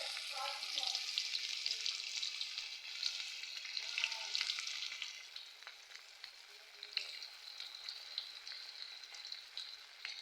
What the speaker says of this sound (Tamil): எண்ணெய் காஞ்சிச்சு, கத்திரிக்காய் போட போகிறேன்